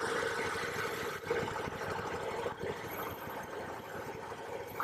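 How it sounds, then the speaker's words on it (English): A 2017 KTM 1290 Super Duke R motorcycle engine running after a hard start, a steady, close, deep rumbling idle with slight unevenness that continues throughout without talk. "That's how a bike should rumble up."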